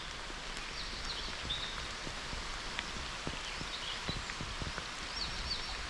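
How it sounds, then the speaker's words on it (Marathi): Light, steady drizzle pattering softly on surfaces by a pond, with scattered drops ticking throughout and faint bird sounds far off. "आता आलेला आहे रिमझिम पाऊस"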